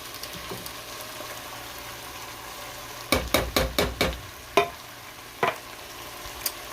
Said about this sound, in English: now that the sausage is all cooked, we're going to go ahead and toss in our crushed tomatoes